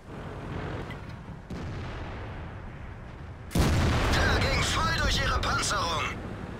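Tank guns firing in the World of Tanks video game, a burst of loud booming shots and rumbling blasts that crowd the latter half, while someone talks over the gameplay throughout.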